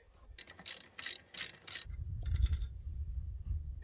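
A few sharp metallic rattling bursts from a mechanism, close and loud, followed by a steady low mechanical rumble.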